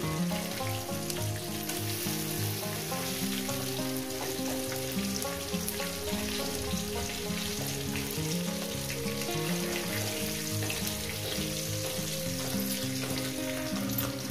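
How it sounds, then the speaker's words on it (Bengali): Parshe fish fry in hot oil with a steady, dense sizzle that crackles evenly and continuously at close range, with no voices. "মাছগুলো আমার ভাজা হয়ে গেছে, মাছগুলো আমি উঠিয়ে নিচ্ছি।"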